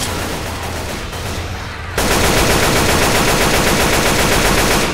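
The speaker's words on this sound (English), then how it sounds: "Stop shooting each other." Dense automatic gunfire from the zombie shooter Left 4 Dead 2 rattles nonstop, loud and close, growing heavier and fuller about two seconds in as more guns join.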